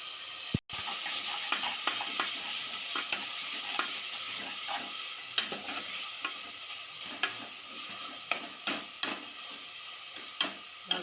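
Curry leaves and ginger paste fry in a pan for brinjal curry, a steady sizzle punctuated by repeated sharp taps and scrapes of a spoon stirring, with no speech.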